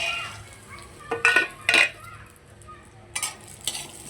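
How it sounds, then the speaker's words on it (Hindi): Dried dates are roasted in a pan and stirred with a utensil, producing a few scraping, clinking strokes in short bursts over a quiet background of faint sizzling. "अब डालेंगे हम इसमें सबसे ख़ास चीज़ है जो कि छुआरे हैं, उसको हम भूनेंगे"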